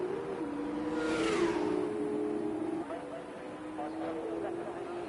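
F2 race car weaving to warm its tyres in a racing video game, an engine tone rising and falling with a whooshing pass, moderately loud and continuous.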